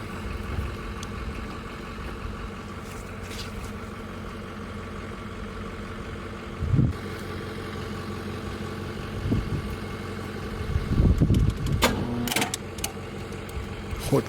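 A 6.0 Powerstroke engine runs at a steady rough idle with a continuous low mechanical drone, and a few clunks and rattles break through toward the end.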